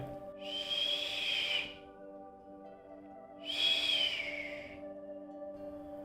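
Two breathy whistled notes from a person, each lasting about a second with a pause between, close and fairly loud over a steady background hum.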